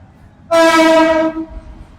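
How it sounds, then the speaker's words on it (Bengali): A train at Kamalapur railway station in Dhaka sounds a single loud, close horn blast lasting nearly a second, rich and tonal, standing out over a quiet station murmur before cutting off. "যে ট্রেনটি আমার হাতে ডান পাশে দেখতেছেন"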